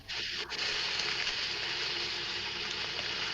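Loud, steady hissing and bubbling from coffee being made, close to the microphone, running continuously with no talk.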